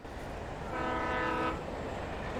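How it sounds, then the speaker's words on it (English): Train passing in the video game Alan Wake Remastered, a sustained horn-like tonal blast swelling over a steady rumble for about a second, then fading back into the constant background roar. "Ooh, train."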